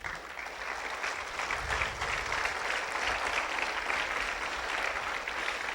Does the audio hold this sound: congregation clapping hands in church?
yes